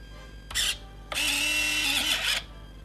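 Electric retracts and flaps on an E-Flite Hawker Hurricane RC model whir in two bursts, a brief buzz followed by a longer steady motor whine of about a second, close and alone.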